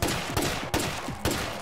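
Gunfire from State of Decay 2 as zombies are shot: three dense, loud bursts of rapid shooting in quick succession, each a broadband crackling volley, with no talking.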